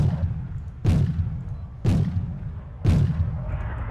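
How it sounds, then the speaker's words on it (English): Mortar rounds fire in the video game Wargame AirLand Battle, three heavy booming thuds about a second apart over a constant low rumble of battle. "Nice mortar capabilities there. A lot of rounds downrange."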